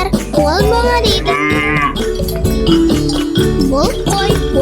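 A cartoon cow on a farm moos in drawn-out calls over a busy children's song, with music and singing running loudly throughout.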